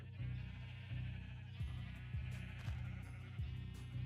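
Several sheep bleat on a sheep farm in a video game, a series of close, wavering bleats repeating roughly every half second over a steady ambient hum.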